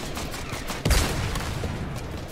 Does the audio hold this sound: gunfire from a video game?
yes